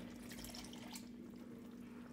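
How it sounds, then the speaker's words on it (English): Water pours into a thickening coconut chickpea curry in a cooking pot, a soft splashing trickle near the start that fades after about a second beneath a steady low hum. "I'm going to go ahead and add some water now"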